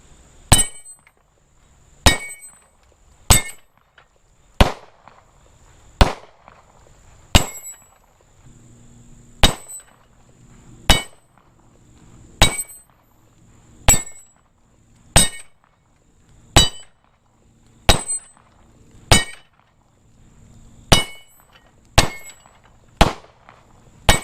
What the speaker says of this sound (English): So we're going to be putting some 9mm carbine rounds on here.